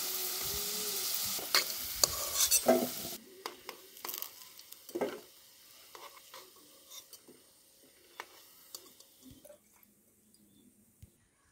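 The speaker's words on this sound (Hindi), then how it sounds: "अब हमें सभी आलू को अच्छे से फ्राई कर लेना है" Hot oil sizzles loudly as potatoes fry for dum aloo, then drops to quieter crackles, stirring scrapes and occasional clinks from a pan, with no one speaking.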